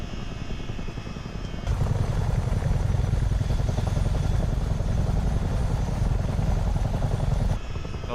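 A CH-47D Chinook helicopter in flight within a flight simulator game, a loud, steady rotor thump and engine drone that swells abruptly after a quieter start and drops back near the end.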